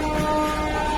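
Passenger train pulling out of Keshinga railway station, a steady rumbling drone with sustained tonal hum, continuous and fairly loud throughout, no voices.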